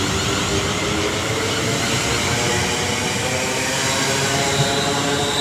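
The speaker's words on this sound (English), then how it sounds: "This is a Ryanair from Malaga as well." A Ryanair airliner out of Malaga passes overhead near a quiet railway station, a steady broadband jet roar holding loud and constant throughout without any voices.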